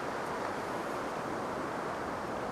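Wind blowing outdoors in an Anchorage, Alaska garden, a steady broad rushing hiss with no gaps, close to the microphone and with no voices.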